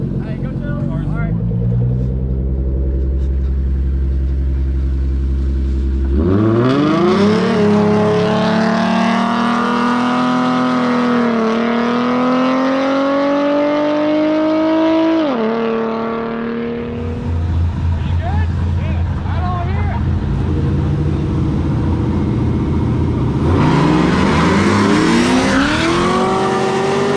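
A Corvette and an Infiniti Q50 race at a car meet, engines revving hard through rising gear pulls with loud shifts, then roaring again after a brief lull, while people talk over the noise.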